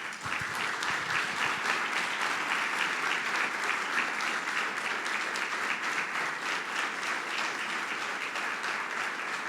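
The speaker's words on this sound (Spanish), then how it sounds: "Dale un fuerte aplauso al Señor" A church congregation bursts into loud, sustained applause, many hands clapping in a dense, continuous wash that holds steady for several seconds.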